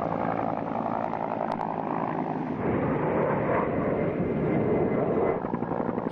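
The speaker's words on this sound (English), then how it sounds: "It took three helicopters and two air tankers making rapid turnarounds" Three firefighting helicopters and two air tankers making rapid turnarounds over a fire near Beaumont, a loud continuous engine and rotor roar overhead that swells midway and holds steady without talk.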